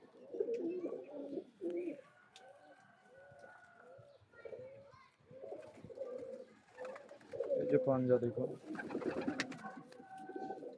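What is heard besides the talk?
pigeons cooing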